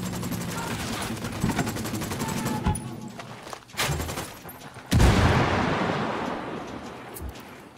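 Rapid bursts of automatic gunfire in a Spec Ops firefight set in Bolivia, loud and dense with sharp shot transients and booming impacts, a brief lull before a heavy volley crashes in near the end.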